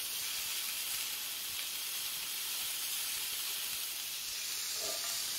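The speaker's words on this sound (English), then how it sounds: "you can hear the instant sizzle from the Aga boiling plate" Steady, loud sizzling hiss of steak searing on the hot boiling plate of an Aga cooker, continuous throughout with no voices.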